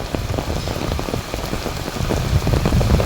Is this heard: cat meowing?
no